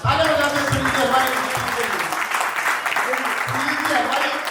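An audience applauds at a Jain religious ceremony, the Siddhachakra Mahamandal Vidhan, to welcome the caterer and his team. The loud, steady clapping starts at once and continues under a voice on a microphone.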